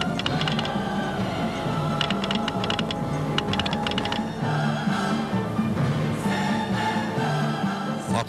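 A telegraph key taps out a message during a Turkish War of Independence scene, with rapid bursts of sharp, close clicks over a steady background of music and rumble.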